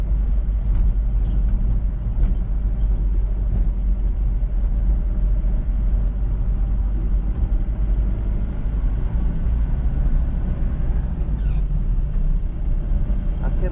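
Vehicles idling and creeping in a highway traffic jam on a long road trip through Gujarat, a steady low engine rumble and road drone filling the whole stretch, close and continuous, with faint voices in the background.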